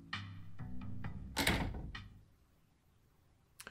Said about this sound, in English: You and the dogs exit the mayor's office and close the door behind you.